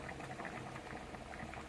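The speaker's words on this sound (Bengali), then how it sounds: "ডিম আর আলুটা সিদ্ধ বসিয়ে দিয়েছি" Eggs and potatoes boil together in a pot of water, a low, continuous bubbling rumble that stays quiet and even throughout.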